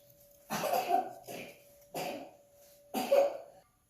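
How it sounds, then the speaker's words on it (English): Three separate bursts of coughing, each a short cluster of harsh coughs spaced about a second apart, close and fairly loud with quiet gaps between. "now it's just a little cough that we have"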